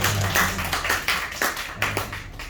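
A small church congregation claps during a Sunday service, loud and close, in uneven bursts of hand claps over a few seconds.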